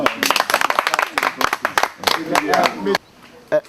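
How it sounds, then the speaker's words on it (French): Applause breaks out at a community meeting in a Côte d'Ivoire village on oil and gas revenue, a dense, steady patter of many hands with voices mixed in, then cutting off abruptly near the end. "On applaudit."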